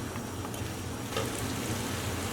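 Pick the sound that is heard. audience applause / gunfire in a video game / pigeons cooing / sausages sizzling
sausages sizzling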